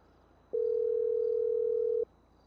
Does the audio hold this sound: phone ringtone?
yes